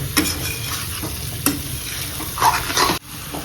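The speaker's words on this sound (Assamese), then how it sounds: "মই তিলখিনি দি 2-3 মিনিট ফ্ৰাই কৰিলোঁ" Pork with onion and sesame seeds fries in a pan, a continuous close sizzle broken by a few sharp scraping stirs.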